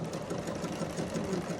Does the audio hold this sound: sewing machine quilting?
yes